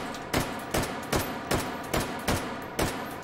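An AK-12 rifle fires in the VR shooting game H3VR: eight evenly spaced single shots, sharp and close, at a steady rhythm with nothing else heard.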